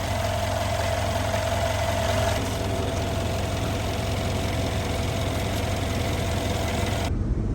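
A Mercedes ML63 AMG with the M157 bi-turbo engine runs steadily at idle, a constant low rumble with faint vibration holding through the whole stretch, heard close up with no voices.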